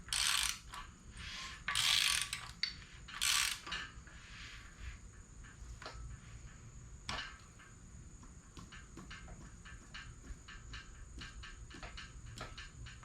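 A ratchet turns the crankshaft of a 2.4 SRT-4 engine during a timing belt install, giving a run of close, sharp ratcheting clicks after a few louder bursts of clatter, with no talk.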